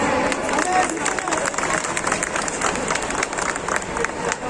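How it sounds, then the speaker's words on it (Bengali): An audience claps steadily at a stage event during a cooking competition. The applause is dense and continuous, with a murmuring crowd underneath, holding at an even level throughout. "একটু জোরে হাততালি"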